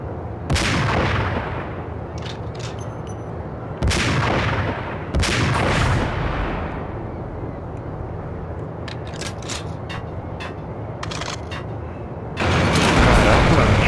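Heavy gunfire rings out in the Max Payne video game, several loud booming shots with long echoing tails spaced a few seconds apart, with a faint voice between them and some quick mechanical clicks.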